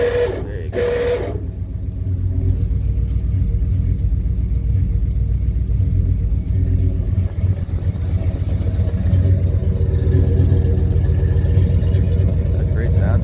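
A 1964 Ford F100 short-bed pickup with a 351 Windsor V8 and automatic transmission idles steadily with a deep, even rumble that runs for most of the stretch after a brief opening noise, with a voice speaking over it.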